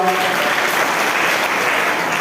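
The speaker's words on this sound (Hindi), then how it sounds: "कृपया इनके समान अच्छे से ताली बजाओ" An audience at a Jain religious discourse applauds together, a steady, dense wash of clapping that holds evenly for about two seconds with no voices over it.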